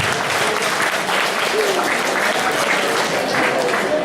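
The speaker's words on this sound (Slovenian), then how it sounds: "In dajmo en aplavz za ta prizor." Audience applause after an improv comedy scene at a Harry Potter themed impro show, steady dense clapping held at an even level throughout, with faint crowd noise underneath.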